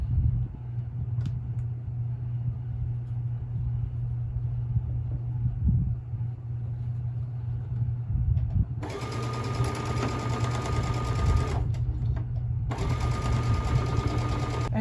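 A sewing machine stitching quilt rows: a low steady motor hum with rattling needle action, then two long bursts of fast, louder high-pitched whirring stitches separated by a brief pause.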